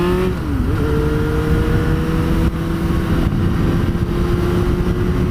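A Yamaha FZ6 600 motorcycle engine running loud and close, a steady throaty drone with a brief dip and rise in pitch as it is revved, then holding at an even high idle, no talking.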